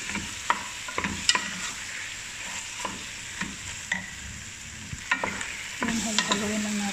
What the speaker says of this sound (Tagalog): Ayan, halo-haloin lang natin ulit.